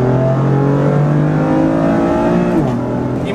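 BMW M4 coupe engine revving hard in second gear from about 4000 rpm, a loud continuous rising roar that climbs steadily and then drops with a sharp shift near the end.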